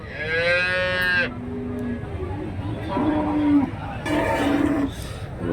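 Cattle moo several times, one long deep low close by followed by shorter calls, amid a busy outdoor crowd murmur at the Karimangalam cattle market in Tamil Nadu.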